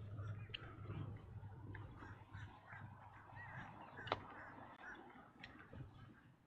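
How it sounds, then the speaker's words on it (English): Birds call at sunrise in a park on Florida's Space Coast, with goose-like honks and scattered chirps sounding faint and distant over a low steady background hum. "Listen to all the birds doing bird things."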